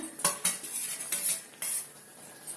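Metal spoon scraping and clinking against a pan as green chillies are stirred into cooked masala for a preserved chilli pickle, a few sharp scrapes and knocks close up with no talk.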